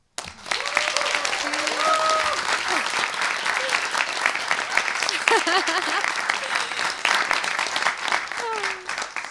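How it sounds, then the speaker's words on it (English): Loud, sustained applause from an audience welcoming a guest on stage, a dense roar of clapping lasting many seconds, with cheering voices and whoops rising over it. "please, a loud applause for Aditi Mayer"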